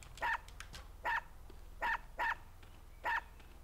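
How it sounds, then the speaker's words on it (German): A dog in the video game UnEpic barks five times in steady, evenly spaced yelps over a constant low background hum. "Mit jedem Beller macht mich der Köter platt, oder was?"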